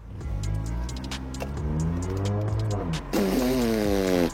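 A 380-horsepower car engine fires up and revs, climbing in pitch through several rising sweeps, then surges louder into a hard rev near the end, close and unaccompanied by talk.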